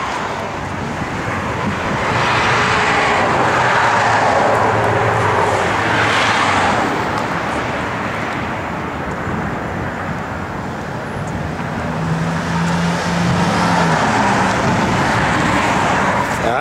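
A 1974 Plymouth Duster drives along the road, its steady engine and tire roar mixed with wind buffeting, loud and continuous throughout with no talk.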